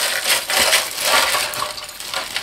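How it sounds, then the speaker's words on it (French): Crinkling plastic and cardboard packaging rustles and crackles continuously as a boxed model car is unpacked, close and fairly loud with no talk. "Alors là, je déballe tout."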